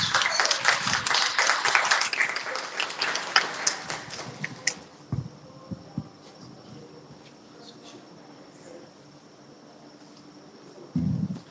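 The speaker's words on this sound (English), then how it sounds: "So let's give a round of applause to Young Keng." A hall audience applauds a speaker coming on stage, dense clapping at the start that thins out and fades into quiet room tone, with a short rustle of noise at the very end.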